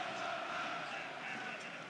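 Distant, faint roar of a football stadium crowd at Hull City versus Leeds United, a steady wash of massed voices and noise.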